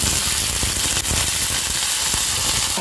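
Curry leaves, mustard seeds, cumin and split dals sputter in hot oil for an ivy gourd chutney tempering: a loud, steady sizzle with dense crackling pops throughout, and no voices.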